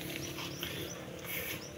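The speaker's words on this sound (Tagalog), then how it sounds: "meron na po tayong alagang baktin" A newly bought pig in a pen gives rough grunts and squeals at moderate distance over steady background noise, with no talk.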